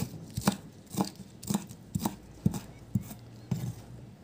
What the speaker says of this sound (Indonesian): dua batang daun bawang nih aku masukin sebatang-batangnya. Kita iris kasar juga.